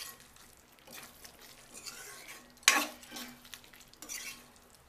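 Brinjal and potato curry is stirred in a pan with quiet scraping and sizzling, and one louder clatter of the spoon against the pan comes partway through.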